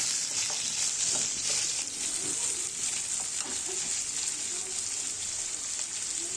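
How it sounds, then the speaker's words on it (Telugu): Chopped onion and green chillies frying in a kadai with tempering seeds, a continuous close sizzle with soft scraping of stirring throughout. "అందులోకి ఉల్లిపాయ పచ్చిమిర్చి వేసి బాగా కలపాలండి"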